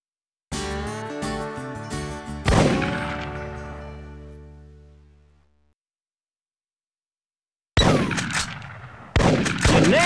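Rifle shots in the hunting arcade game Big Buck Hunter Pro, a few sharp reports over game music that rings out and decays into silence, then two more abrupt bursts near the end.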